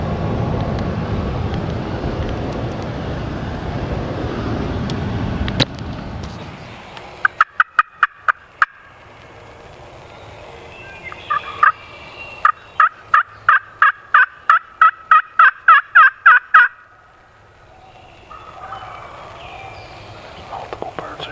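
Wild turkeys gobble during a morning hunt, a fast series of sharp clucking gobbles repeating in bursts, fairly distant, with quiet whispering and rustling around them.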